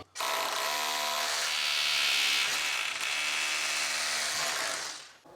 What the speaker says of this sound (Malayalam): അത് വെച്ചിട്ട് ഡ്രിൽ ചെയ്തിട്ട് സാധാരണ പോലെ ഫിക്സ് ആയി കൊടുക്കുകയാണ്.